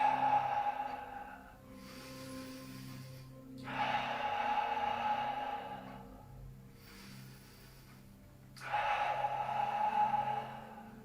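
Slow, deep breaths during a Pilates exercise, three long airy exhalations separated by quiet pauses, close and fairly soft, with no talk.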